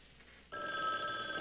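A telephone bell starts ringing abruptly partway through, a steady, fairly loud electronic trill that carries on to the end after a quiet stretch of room tone.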